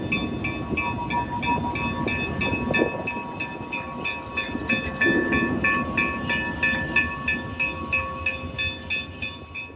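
An SW1 switching locomotive, heard from its cab, rumbles steadily with rhythmic clanking and a steady tonal hum, growing into regular clacking toward the end; no voices.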